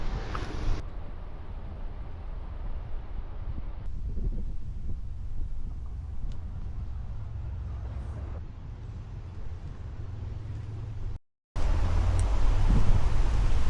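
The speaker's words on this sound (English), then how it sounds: "it's just so windy." Steady, heavy wind by a lake buffets the microphone with a continuous low rumble, broken by a brief dropout before the roar resumes even louder.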